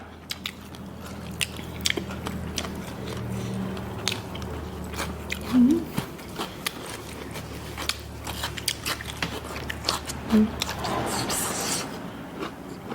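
Someone bites and chews crunchy Thai papaya salad with red sausage and khanom jin noodles, close, crisp crunches and crackles repeating irregularly over a quiet background, with a few louder bites standing out.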